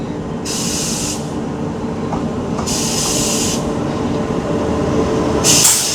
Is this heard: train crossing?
yes